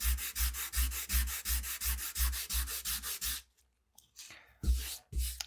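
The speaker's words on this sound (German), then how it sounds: "fange mit dem Schleifpapier eine Stelle an und schleife das ein bisschen aus" Sandpaper rasps over wood in quick, regular back-and-forth strokes, then a brief pause before a few more rough strokes.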